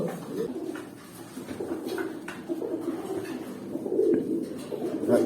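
Pigeons kept as pet birds, with chicks being raised, coo in low, rolling calls close by. The cooing repeats steadily and swells louder toward the end, with no talking.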